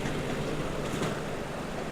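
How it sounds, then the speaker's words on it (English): Ocean waves washing onto a beach, a steady full-bodied wash of surf with low rumble and some wind, continuous and fairly close until it cuts off near the end. "At the beach, you can hear the waves"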